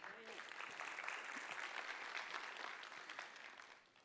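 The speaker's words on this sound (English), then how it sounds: "So, we can clap for him." A conference audience claps in steady, dense applause that fills the room for a few seconds before fading out, with some voices mixed in.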